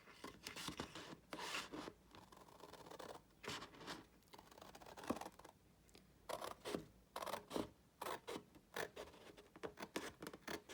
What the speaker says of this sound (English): Look, I have my bigger scissors.